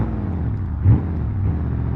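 Old squarebody truck engine idling in BeamNG Drive, a steady low rumbling drone with one brief swell of revs partway through, alone with no talk.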